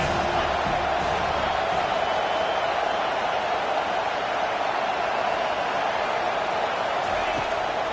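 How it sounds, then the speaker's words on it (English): A stadium crowd roars in a steady, dense wash of cheering behind a third-down defensive stand in the College Football 25 video game, loud and continuous throughout. "Big third down as the crowd gets behind this defense."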